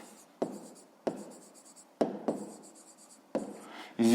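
Pen or pencil writing out a fifth-grade maths exercise: short bursts of scratchy strokes, close and fairly quiet, separated by brief pauses, with a louder scrape at the end.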